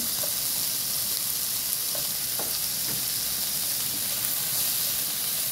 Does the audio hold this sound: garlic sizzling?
yes